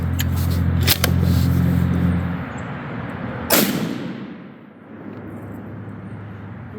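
A Savage Axis rifle in .243 firing Hornady 87-grain hollow-point varmint rounds, a sharp broadband crack at about 3.5 seconds with a short tail, following a fainter click near 1 second over a steady low engine-like hum.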